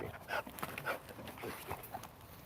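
A puppy pants rapidly and close by, a quick breathy rhythm of short huffs with a faint whimper mixed in.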